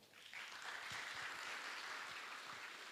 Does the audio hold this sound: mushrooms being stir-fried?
no